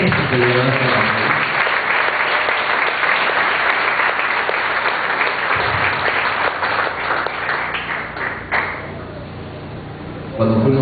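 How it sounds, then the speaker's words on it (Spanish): A church congress audience applauds loudly and steadily for about ten seconds, dense clapping with crowd noise throughout, easing slightly near the end before swelling again. "Den un aplauso."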